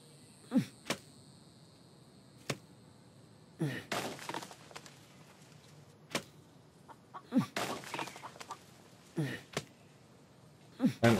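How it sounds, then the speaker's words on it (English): A chicken in a video game gives scattered short clucks amid sharp breaking and shattering impacts, with spoken commentary running intermittently between the sounds. "also, I can hear the chicken."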